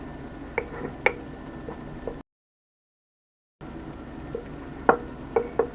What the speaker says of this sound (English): I'm going to add, that's 50 mils of water. I'm going to give it a stir.